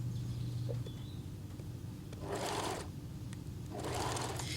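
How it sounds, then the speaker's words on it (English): Two bursts of a sewing machine running, each a rapid mechanical whirring lasting under a second, separated by a quiet pause with faint bird chirps. "I do it on the sewing machine"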